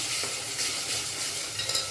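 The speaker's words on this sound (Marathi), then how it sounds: "तेलात हे टाकणार आहे याची फोडणी देऊन घेणार आहे" Ground horse gram paste hits hot oil in a pan and sizzles steadily as it is stirred, a close, continuous hiss and crackle with no voices.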